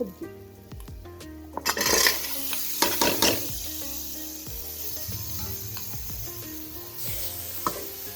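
Vegetables stir-fried in a pan, sizzling throughout with repeated scraping and stirring strokes and utensil clinks against the metal, loudest around the middle and settling to a steady fry.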